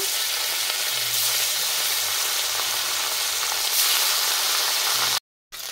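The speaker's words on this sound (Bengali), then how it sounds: "এবার মাছ ভাজার তেলে বাকি মাছ ভেজে নেব।" Pieces of lote fish (Bombay duck) fry in hot oil, giving a steady, dense sizzling hiss up close that continues until a brief cut near the end.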